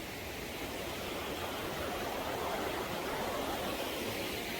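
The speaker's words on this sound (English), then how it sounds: "Can you guys hear that water?" Steady, broadband rush of falling water from Johnston Canyon Lower Falls in Banff National Park, continuous and fairly loud, with no pauses or voices.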